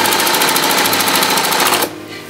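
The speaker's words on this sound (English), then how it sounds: "And I'll sew right across that bias edge." Longarm quilting sewing machine stitching across the bias edge of a quilt binding, a steady rapid mechanical whir and needle chatter that runs loud and close for about two seconds, then stops abruptly.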